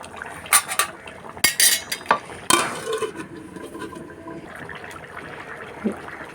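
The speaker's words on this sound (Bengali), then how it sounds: "এখন আমি ধনিয়া পাতাটা দিয়ে ঢাকনা দিয়ে দেব।" Coriander leaves drop into a pot of sweet pumpkin and fish curry, then a metal lid clatters on with a few sharp clinks and scrapes, close and fairly loud, followed by a low simmer.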